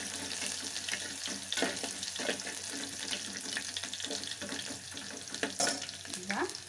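Garlic frying in a pan for a raw banana palya, giving a steady, close hiss of sizzling oil with scattered scraping and stirring clatters throughout and no talking.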